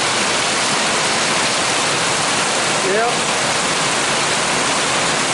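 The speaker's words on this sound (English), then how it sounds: "The water coming off the house." Heavy rainwater pours hard off a house during a humid storm, making a loud, dense, continuous rushing roar close by; a single brief spoken word rises over it.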